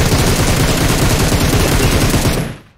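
Sustained automatic gunfire in a PUBG Mobile room match, loud and close, with rapid regular shots packed into a dense continuous burst that cuts off at the end.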